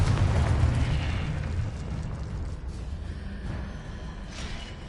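A Confringo fire spell explodes in Hogwarts Legacy with a deep, loud rumbling blast at the start that decays into a long crackling, roaring tail with a few soft pops.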